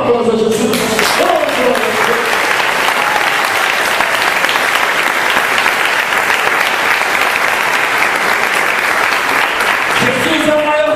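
A church congregation claps loudly and continuously, dense sustained applause filling the room, with a voice speaking briefly at the start and again at the end.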